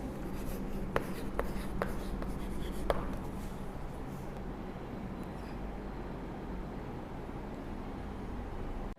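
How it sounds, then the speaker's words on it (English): A pen writes out the answer to a primary-school maths problem with steady close scratching strokes and a few sharp taps, heard over a constant room hiss with no talking. "So let us write our answer."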